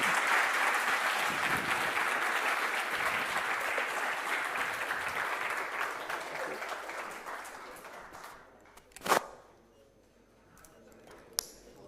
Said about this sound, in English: Big applause then, big applause.